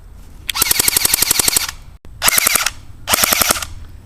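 AGM Sten MKII airsoft gun on an 8.4 volt battery fires three loud full-auto bursts, a rapid buzzing chatter of evenly spaced shots, the first burst longest and the next two shorter after brief pauses.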